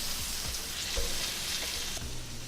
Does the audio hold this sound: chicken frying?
yes